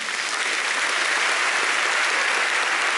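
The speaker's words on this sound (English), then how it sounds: "still got a clap offering for our parents" A church congregation gives a clap offering for their parents, a full, dense wash of applause that holds steady and loud throughout with no pauses.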